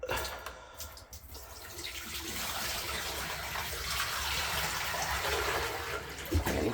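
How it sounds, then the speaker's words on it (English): Water is poured out into a bucket during a bathroom shutoff valve leak repair, a steady close rushing splash that carries on without a break and swells slightly toward the end. "I'm gonna pour the water out here"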